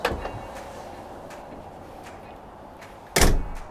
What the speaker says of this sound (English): my personal favorite is the Dutch door